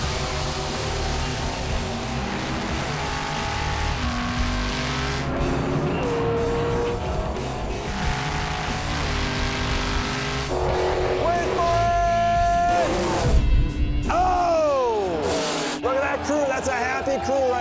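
A 1968 Plymouth Road Runner drag races at Maple Grove Raceway, its loud engine roaring steadily and climbing through gear changes, with tire noise and commentary voices mixed over the continuous racing din.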